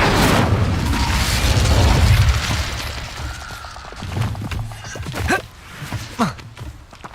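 A fire spell is cast in Hogwarts Legacy, producing a loud, sustained roaring burst at first, then fading into several shorter whooshes and pops mixed with movement sounds.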